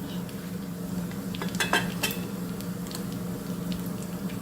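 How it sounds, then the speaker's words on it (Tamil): Mustard and cumin seeds splutter in hot oil in a pan while cooking a South Indian dish, soft crackling and scattered pops over a steady low hum, fairly close, no one talking. "கடுகு சீரகம் நல்லா பொரிஞ்சிடுச்சு"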